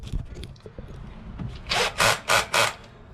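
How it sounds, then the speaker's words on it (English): A cordless drill's clutch set high ratchets in four quick, evenly spaced bursts of harsh clicking near the end, after quieter handling noise. "That's a ratchet. It's on very high."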